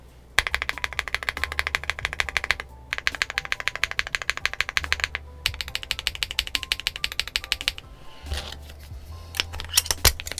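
Fast typing bursts on a WOBKEY Rainy75 mechanical keyboard, close and crisp, with dense rapid clacks in three long runs separated by short pauses, then a brief rattling and a few scattered keystrokes.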